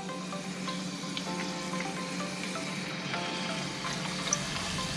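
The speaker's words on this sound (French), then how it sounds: "Je mets mes pelures de pommes de terre dans l'huile." Potato peels frying in a pot of hot oil, a steady dense crackle and sizzle running throughout with scattered small pops, close and continuous.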